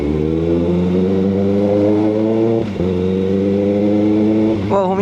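A 2026 Kawasaki Ninja ZX-6R motorcycle accelerates in rain mode, its engine droning steadily and rising in pitch, with a brief dip at a gear change before the revs climb again near the rider.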